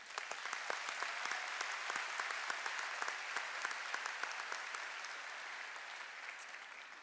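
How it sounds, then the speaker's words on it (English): An audience at a high school graduation ceremony claps steadily and warmly for several seconds, a dense even patter of many hands slowly fading at the end. "Let's give them a round of applause."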